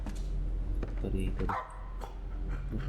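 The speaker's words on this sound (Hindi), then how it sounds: "फिर भौंक रहा है" In a horror video game, a dog barks in several short, sharp bursts at mid distance, layered over dense game noise and a person talking.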